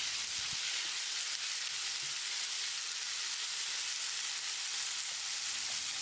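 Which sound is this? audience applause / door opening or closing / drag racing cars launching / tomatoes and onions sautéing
tomatoes and onions sautéing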